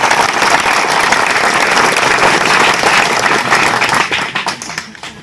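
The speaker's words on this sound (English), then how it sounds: "Let us give them a big round of applause." A school audience of students applauds visiting doctors at an awareness program, producing loud, dense, sustained clapping that fills the room and tapers off near the end.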